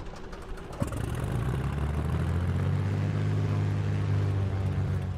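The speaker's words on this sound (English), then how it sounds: "Let's get the engine fired up." In a flight simulator game, a small aircraft engine catches with a sharp start about a second in, then settles into a steady, loud, droning idle with a low rumbling tone.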